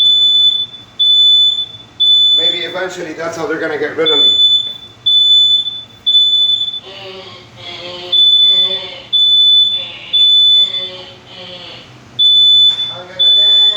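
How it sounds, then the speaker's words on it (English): A false fire alarm in a building beeps in loud, regular high-pitched pulses that repeat steadily throughout, with a person talking over it in short stretches. "Every week there's a false alarm."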